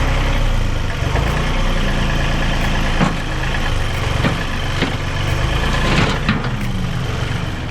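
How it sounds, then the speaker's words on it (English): Tractor engine idling steadily on an Alaska homestead, a continuous low rumble close by with faint clanks and knocks over it, no talk. "Let's see if the tractor can drag this trailer with flat tires."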